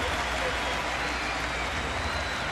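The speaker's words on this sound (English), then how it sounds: "Gets a nice hand from the stadium crowd" A stadium crowd applauding at a 2011 Yankees versus Blue Jays baseball game, dense sustained clapping and crowd roar forming a continuous wash, with a broadcaster talking over it.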